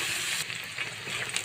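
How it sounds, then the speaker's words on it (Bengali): Chopped onions fry in soybean oil in a pan, giving a steady close sizzle and crackle that holds at an even level throughout. "প্যানেতে আমি কিছু পরিমাণে সয়াবিন তেল দিয়েছি, দিব আমি পেঁয়াজ কুচা।"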